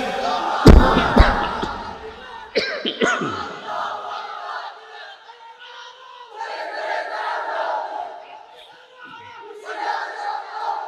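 A large crowd at an outdoor Islamic religious gathering in Cox's Bazar roars back a loud, ragged chant in response to a preacher's call, with thumps and bursts of shouting that swell and fade.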